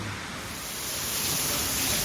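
Dense, steady hiss of heavy rain pouring down, loud and continuous with no voices.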